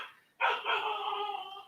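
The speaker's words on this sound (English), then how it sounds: "Sorry, that is my dog." A dog lets out one sustained, whining bark-howl that starts abruptly and carries on steadily for over a second, close by and fairly clear, in a quiet indoor room with no talk.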